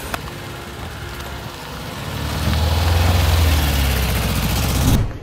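A vehicle engine runs after carburettor adjustments with a steady, noisy rumble. It swells louder partway through and holds there, then cuts off abruptly at the end.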